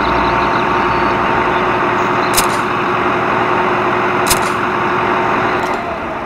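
A tractor engine in Landwirtschafts Simulator 2013 runs in a steady, loud diesel drone, with a couple of brief clicks over the continuous rumble.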